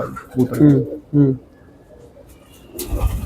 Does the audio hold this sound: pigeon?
yes